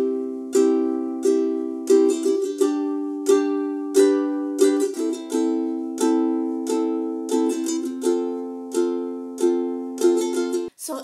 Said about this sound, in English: And with the second strumming pattern, it's gonna sound like this.